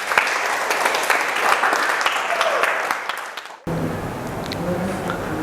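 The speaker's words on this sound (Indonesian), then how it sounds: "Tepuk tangan dulu." Students in a classroom clap together in a loud, dense burst that carries on for several seconds, then stops abruptly, giving way to quieter room noise.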